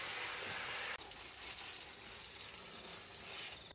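Water gushing steadily onto plants such as Japanese daikon radishes, a close, continuous splashing pour that drops slightly in intensity after a moment and runs on alone.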